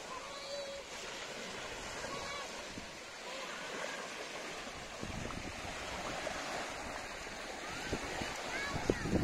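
Sea waves at Banderahan beach in Naval, Biliran, heard as a faint, continuous wash of surf that builds slightly toward the end, with soft indistinct background sounds.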